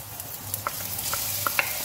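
Garlic and ginger sizzle in a pan for a beef curry, a steady frying hiss with a few light clicks from a stirring utensil, close and fairly loud with no voices.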